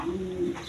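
A single sky-blue Rajgolla pigeon in a loft gives one smooth, sustained low coo, close and clear, with no talking.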